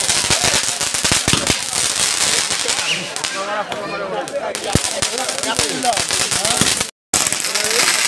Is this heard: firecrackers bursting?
yes